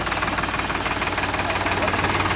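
A Solis 5015 tractor engine runs steadily nearby with a loud, even diesel knock and a constant rumble, with no talking over it.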